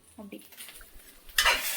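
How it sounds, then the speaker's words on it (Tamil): Turmeric and curry powder masala stirred in a pan for okra puli kulambu: faint spoon clinks against the pan, then a louder scraping stir with a hiss of frying. "அப்புறம் மஞ்சள்தூள், குழம்புத்தூள் போட்டு நல்லா கிளறிக்கோங்க."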